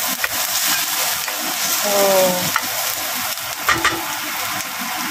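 Onion sautéing in a pan for vegetable soup makes a steady, close sizzle with scraping stirring strokes, and a voice speaks briefly over it.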